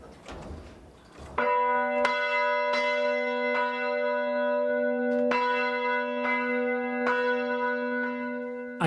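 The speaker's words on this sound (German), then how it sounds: "lassen das Sonntagsgeläut am heutigen Mittwoch ablaufen" A church's Sunday peal of bells rung unusually on a Wednesday, heard after a brief muffled start: rich, sustained tolling with repeated strikes roughly every second, loud and close, no voices.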